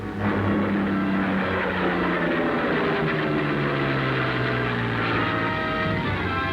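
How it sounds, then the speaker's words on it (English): Loud droning engine of a low-flying 1944 aircraft passing close overhead, a steady roar with slowly gliding pitch, no voices. "Contact is made with the low-flying craft."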